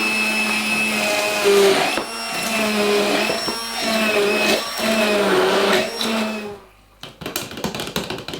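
A kitchen blender purees fruit sauce for peach melba, a loud steady whirring that shifts pitch in pulses as the contents churn, then cuts off abruptly near the end, leaving brief clatter.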